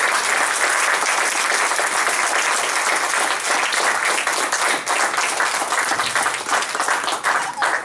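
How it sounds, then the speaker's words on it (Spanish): A church congregation bursts into sustained, loud applause, dense clapping filling the space evenly from start to finish with no speech over it. "Dale un aplauso al Señor."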